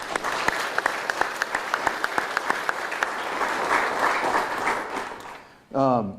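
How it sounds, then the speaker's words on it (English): Crowd at the introduction of a new Arkansas State athletic director: crisp rhythmic claps swell into loud, sustained applause, which fades as a voice begins speaking at the very end. "let's give them a round of applause, please"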